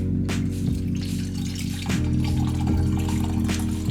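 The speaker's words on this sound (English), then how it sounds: "We're gonna go ahead and pour it." Liquid pours steadily with gurgling and splashing, close up and continuous, with a few brief clinks partway through.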